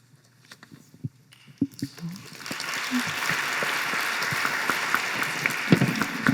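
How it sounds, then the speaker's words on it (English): After a startup's pitch at a venture prize night, a few scattered claps and voices give way to sustained applause from the audience that continues evenly to the end. "let's give a big round of applause to all 8 teams"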